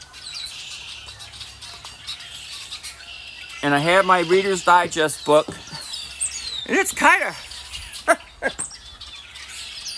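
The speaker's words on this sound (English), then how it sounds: "We got these that you can hear up over here are blackbirds." Blackbirds chirp noisily outdoors on a cool fall day in Michigan, a dense chorus of bright overlapping calls beneath someone talking close by.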